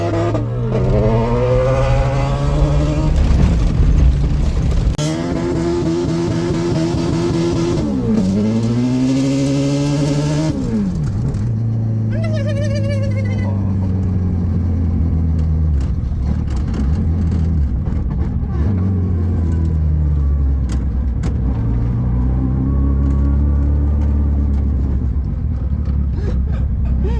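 A Hayabusa-engined Corolla and a Honda Civic launch in a drag race, engines revving hard in loud rising and falling sweeps, with a sharp high-pitched rev burst partway through and steady droning after.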